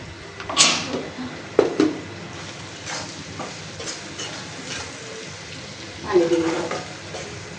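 Spice paste with salt and turmeric sizzles softly in a home kitchen pan as a spatula scrapes and stirs it in scattered bursts, with a few sharp utensil clinks against the metal and a faint voice in the background.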